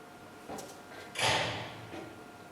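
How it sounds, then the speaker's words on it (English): A door in a stage play's sound design opens or closes: a soft knock or thump, then a louder broadband scrape-and-thud midway, with a faint settling sound after, fairly close in a quiet room. "There's a door again."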